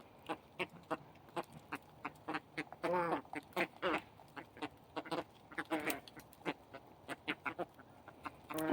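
Ducks or similar birds calling outdoors, with a series of short repeated quacking calls, some close together in bursts, fairly close and moderately loud.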